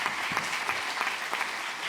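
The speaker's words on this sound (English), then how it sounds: "perhaps you just give them a round of applause in the usual fashion" A short, steady round of clapping from the audience for panellists at a corporate governance conference in Luxembourg, moderately loud and continuous throughout.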